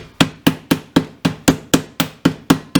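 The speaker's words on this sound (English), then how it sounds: "and just hammer away" A meat mallet pounds schnitzel meat sealed in a Ziploc bag, giving about eleven sharp, evenly spaced thuds at close range, each one loud and distinct.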